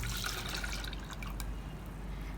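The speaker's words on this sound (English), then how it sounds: "I'm gonna start by adding our imli ka pani into the saucepan" Tamarind water poured into a saucepan for gol gappay ka pani, a faint, steady liquid splash and trickle heard up close and alone.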